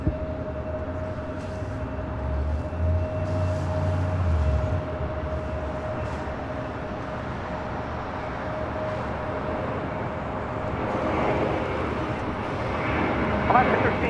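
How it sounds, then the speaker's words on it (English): A United Airlines Airbus A320 taking off at LAX, its engine roar a steady broad rumble throughout, swelling slightly near the end, with faint voices talking over it. "Our next takeoff is United Airlines Flight 1416, heading to Houston, Texas, an A320."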